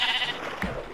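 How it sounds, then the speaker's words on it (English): Sheep bleating in the Minecraft video game, a short single bleat rising over background game sounds and voices. "Dude, there's sheep."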